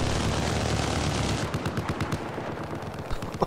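Heavy gunfire during a raid in a video game: a dense, loud barrage that breaks into rapid rattling bursts and scattered individual shots, with no talking.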